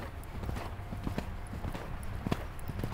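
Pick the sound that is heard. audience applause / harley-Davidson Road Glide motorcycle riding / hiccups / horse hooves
horse hooves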